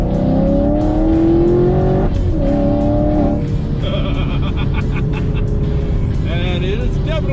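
A supercharged 2017 Chevrolet Camaro 2SS with a Vortex supercharger runs loud and close, its engine note rising and falling with revs and supercharger whine while someone talks over it.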